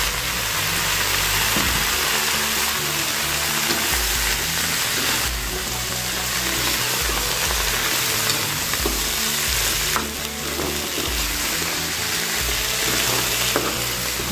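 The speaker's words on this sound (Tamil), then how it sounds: "வெங்காயம் நல்லா விதங்கட்டும்" Onions sautéing in oil and butter for paneer butter masala, a loud continuous sizzle close by with repeated stirring strokes and spoon scrapes throughout, no talk.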